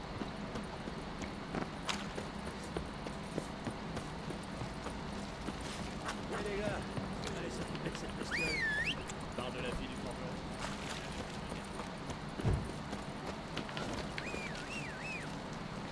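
Horse hooves clip-clopping in The Witcher 3, a steady run of hoofbeats on the move beneath game ambience, with a faint whinny and someone talking over it throughout.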